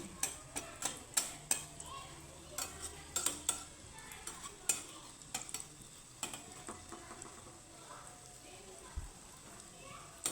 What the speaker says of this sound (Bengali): লো ফ্লেমে আমি সুন্দর করে ভেজে নেব